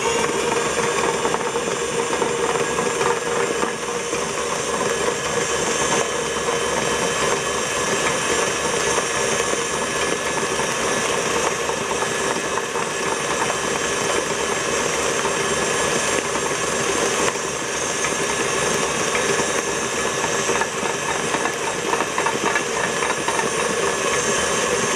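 An electric mixer runs on high speed beating cake batter for a sour cream coffee cake, a steady loud whirring motor hum holding constant throughout with no pauses.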